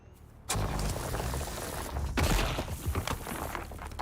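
Gunfire bursts out in the Dune Awakening video game after a brief quiet start, a dense, sustained rattle of shots with a louder flurry midway, fairly close and without talk.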